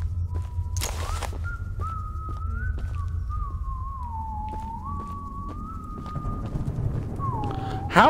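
Two characters in the video game Choo Choo Charles whistle a wavering, sustained melody over low background rumble, with occasional clicks and thumps, the whistle carrying clearly and fairly close.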